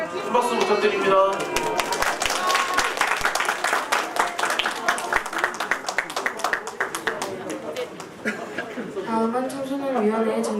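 A small audience at a children's and youth committee event claps, loose and uneven, with distinct individual claps audible, and voices talk and call out over it near the end.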